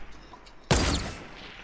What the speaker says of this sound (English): I was using a semi-auto.